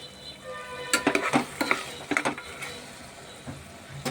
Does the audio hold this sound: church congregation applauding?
no